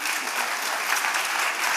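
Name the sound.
audience applause for the theatre performers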